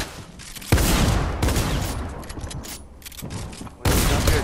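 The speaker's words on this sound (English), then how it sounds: "George, your Gatling gun." A Gatling gun fires in Fortnite, heavy continuous close bursts of rapid shots with booming low end, easing off briefly before another loud burst kicks in.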